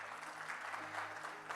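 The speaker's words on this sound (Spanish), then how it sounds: "¿Por qué no le das un aplauso al Señor" Faint, steady clapping from a church congregation, a soft continuous patter of many hands heard from a distance.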